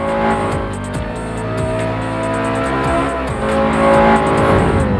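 A T500 car with a 450-horsepower 4.2-litre Audi RS4 V8 runs loud and close, its sustained engine tone shifting as it revs, with tire noise and no talk.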